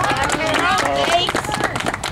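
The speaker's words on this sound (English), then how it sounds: "Everybody give a round of applause to Carl" Applause from a crowd at an evening general assembly, a dense steady patter of many hands clapping close by, mixed with background chatter and voices throughout.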